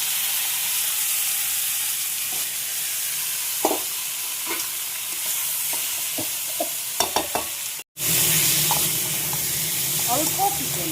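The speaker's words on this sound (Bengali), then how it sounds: "একটু পেঁয়াজ দিয়েছি, ভাজছি, অল্প তেল মশলা দিয়ে করব" Onions fry in a little oil in a home kitchen pan, a continuous close hiss broken by several clinks and scrapes of stirring. A brief dropout comes near the end before the sizzle resumes.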